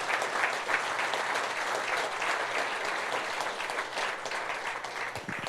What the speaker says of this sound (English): let's have a round of applause for the Curvers family for being here tonight